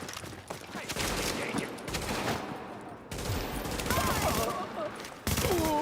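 Gunfire crackles through a firefight in the video game The Division: rapid bursts of loud shots and fusillades come one after another, broken by short gaps, with a brief whistling effect and a voice mixed in underneath.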